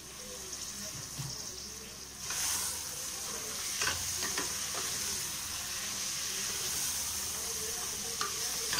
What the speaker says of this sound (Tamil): எண்ணெயிலே நல்லா வதக்கி விட்டுக்கலாங்க